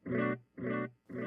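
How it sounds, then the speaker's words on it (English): A guitar tone through a Ventris Dual Reverb pedal, reverb turned off, repeats in three evenly spaced delay echoes, each cutting off cleanly with dry gaps between them and no lingering wash. "I actually want just the delay sound"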